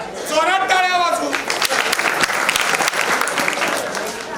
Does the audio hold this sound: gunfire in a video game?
no